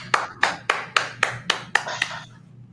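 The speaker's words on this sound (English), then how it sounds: "I hear claps. I hear claps." Claps at a Southern Fried Poetry Slam: about eight crisp, evenly spaced hand claps in a steady rhythm, close and moderately loud, with no talking.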